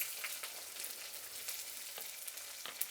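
Onions with curry leaves, mustard seeds and fenugreek fry in a little oil, giving a faint, steady sizzle with scattered soft pops and crackles.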